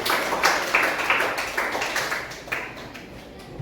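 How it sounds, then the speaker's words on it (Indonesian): A classroom group applauds a student group: a short spell of scattered, mid-distance clapping that stays fairly even, then thins out toward the end. "mari kita tepuk tangan dulu untuk kelompok 1"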